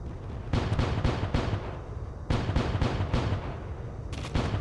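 Ship cannons in the space game Void Sails fire at floating crates near an island, with several heavy booms that come in quick clusters over a steady low rumble.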